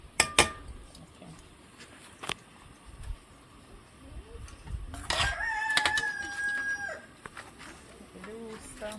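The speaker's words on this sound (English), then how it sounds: "The rooster." A rooster crows at an outdoor Jamaican-style cooking setting, one long drawn-out call rising over background noise, with a few sharp knocks and clatter earlier on.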